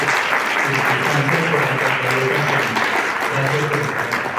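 A crowd at a seed growers' association anniversary event applauds the National Police, steady dense clapping with a voice speaking over it in the background.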